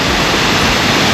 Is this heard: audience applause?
no